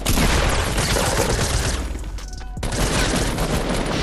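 Rapid gunfire from a Fortnite match, a dense, loud, continuous burst of shots with a brief lull midway before the firing resumes just as heavily.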